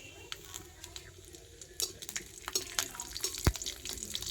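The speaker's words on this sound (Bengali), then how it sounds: "তো জিরে আর রসুনটা তো একটু ভেজে নিয়ে" Cumin seeds and two garlic cloves frying in hot oil in a pan, a soft, steady crackle and patter with scattered sharper pops, a louder spit near the end.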